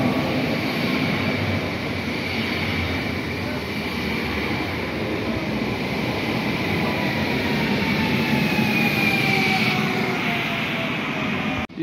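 Passenger train N79001 from Kraków runs through Tarnów station, a loud continuous rumble of wheels on rail with rising and falling squeals and a steady mechanical roar close by.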